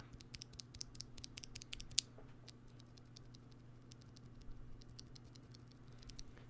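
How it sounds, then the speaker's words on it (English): Quiet, quick clicking and tapping of mechanical keyboard keys with soft, non-clicky strawberry switches, pressed in an uneven rhythm over a low steady hum. "These strawberry switches are actually kind of non-existent in terms of clickiness."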